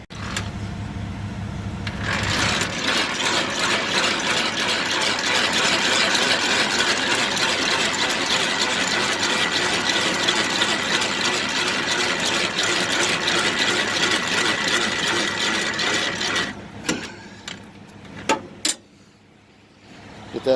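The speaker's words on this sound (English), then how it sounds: "So now I can go ahead and bring the landing gear up." Landing gear on a semi trailer being cranked up: a steady, fast mechanical whirring and grinding runs for about fourteen seconds, then stops, leaving a few scattered clunks.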